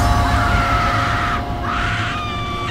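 A woman screams hysterically in a radio drama sound effect from inside a room, one sustained high shriek that breaks off and then resumes over a dense, steady background roar.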